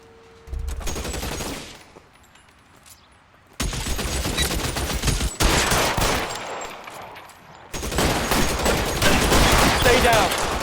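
Gunfire in the crime video game L.A. Noire: repeated loud bursts of shots in clustered volleys, broken by a short lull, mixed with game music and effects.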